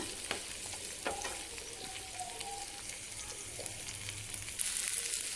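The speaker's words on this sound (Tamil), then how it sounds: "வெங்காயம் பூண்டு கருவேப்பிலை இது எல்லாமே நல்லா வதக்கி எடுத்துக்கோங்க" Onion, garlic and curry leaves sauté in a pan for a Chettinad egg curry, giving a steady close sizzle with occasional stirring scrapes and no talking.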